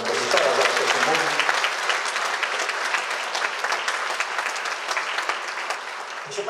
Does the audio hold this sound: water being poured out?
no